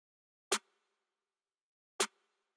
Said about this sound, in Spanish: utilicé dos snares, este que es el principal que suena así.